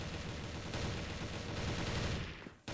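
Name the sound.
gunfire in the video game CrossFire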